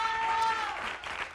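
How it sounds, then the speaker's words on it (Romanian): An audience applauds a dancer at a dance school's twentieth-anniversary show, moderately quiet clapping with a sustained musical tone in the first half that fades as the applause continues. "Aplauze pentru Cătălin!"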